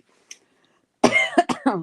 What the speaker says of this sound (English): a lot of people are having this issue with their coughing, like a lingering cough